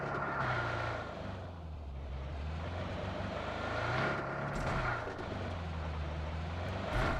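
A car driven in the mobile battle royale game BGMI, its engine a steady droning hum with shifting pitch as it revs and accelerates, continuous throughout at moderate level with no one talking.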